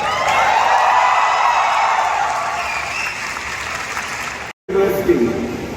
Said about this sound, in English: give a classic Mahindra University way of making noise and applauding your parents who are here